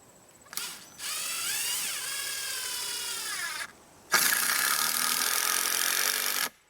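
A power drill drives screws into a hunting blind watch tower, with two long, loud bursts of whirring split by a short pause, close up and with no talk.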